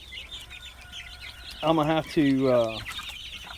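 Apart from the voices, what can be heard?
chickens clucking on a farm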